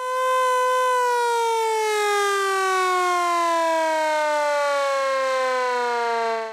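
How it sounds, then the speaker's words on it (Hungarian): A civil defense siren built in 1968 wails loudly and steadily at the start of a youth disaster-response competition, its tone sliding slowly downward over several seconds with no talk. "1968-ban készült, de még ma is működő képes sziréna jelezte a verseny kezdetét"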